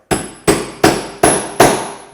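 A steel hammer drives a steel punch into wood while mortising legs for a Greene & Greene style table, five sharp ringing strikes evenly spaced about 0.4 seconds apart, loud and close, each one decaying quickly.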